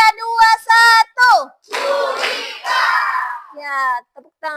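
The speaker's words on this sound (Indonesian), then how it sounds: "Ya, tepuk tangan semua." A class of schoolchildren claps hands together in a short, dense burst in the middle, with loud children's voices chanting and calling out before and after.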